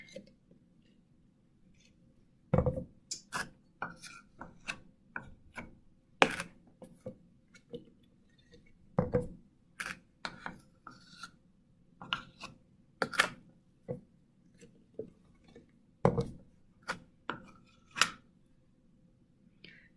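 Peanut butter is spooned from a jar into a measuring cup, making intermittent close scraping and tapping sounds of a spoon against the containers, with quiet pauses between strokes.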